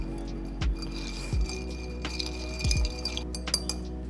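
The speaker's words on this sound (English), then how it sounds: "Then you're just gonna stir with ice." Ice clinks against a glass as a cider cocktail with Japanese whiskey and iced cider is stirred, a few short irregular chinks over a low steady background hum, with no talking.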